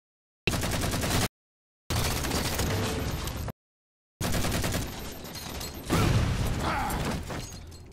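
A weapon fires in Halo 4 in loud bursts of rapid, rattling shots, broken by sudden silent gaps. A louder, heavier burst near the end mixes with mechanical clatter and booms.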